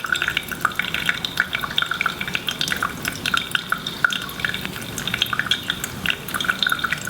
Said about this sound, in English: So you kind of just want this continuous flow that it's like just flowing into the coffee.